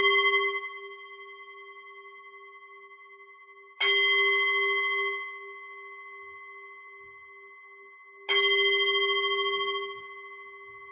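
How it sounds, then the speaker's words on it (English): A meditation bell is struck three times at a metta meditation session, each clear, bright strike ringing out and slowly fading before the next, with no voices. "I will just begin the ring the bell"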